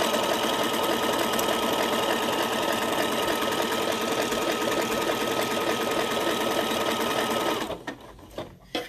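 Sewing machine stitching continuously in a fast, steady mechanical rattle for most of the stretch, close and loud, then stopping abruptly near the end with a few faint clicks.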